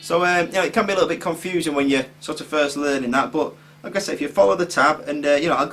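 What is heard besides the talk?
No distinct noise like a dog, phone or traffic.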